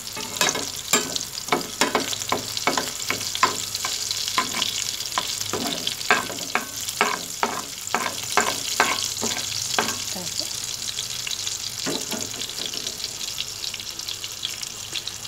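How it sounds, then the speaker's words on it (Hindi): Chapli kebabs, shaped into rounds, fry in hot oil with a continuous loud sizzle broken by many sharp spattering bursts and scraping stirs, close up and without talk. "फिर इस तरह मैंने राउंड शेप बना के फ्राई कर रही हूँ।"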